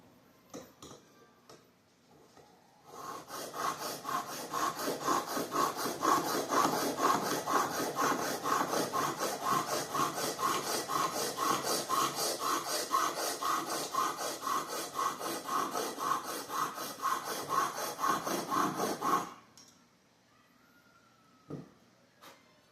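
A hunting broadhead is stroked back and forth on a diamond sharpening stone. The close, rhythmic rasping scrape runs steadily for about sixteen seconds, then stops, leaving near silence with a faint click.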